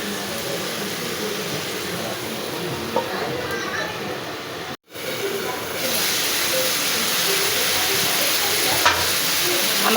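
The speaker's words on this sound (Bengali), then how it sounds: "চুলার আঁচটাকে মিডিয়ামে রেখে একটু নাড়াচাড়া করে ঢেকে দেব। করলা ভাজিটা হওয়া পর্যন্ত আমরা অপেক্ষা করব।" Bitter gourd fries with potatoes and small shrimp in a pan over medium heat, producing a continuous hissing sizzle that drops out briefly and then comes back a little stronger.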